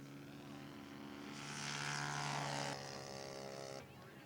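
Scale model airplane flying at an air show at Lenhart's Air Park in Hubbard, Oregon, coming in for a touch-and-go. Its engine gives a steady droning buzz that swells louder midway, then eases back as the plane passes.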